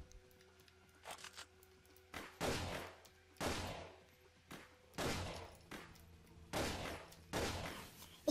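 Shotgun blasts in the video game Vampire: The Masquerade – Bloodlines, about seven sharp booming shots at irregular intervals, each with a short decaying tail over a quiet background hum.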